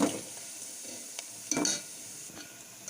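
Onions frying in a pan for bottle gourd curry: a quiet, steady sizzle runs throughout, broken by a few soft scrapes and clinks of a stirring spoon, one louder stir near the middle.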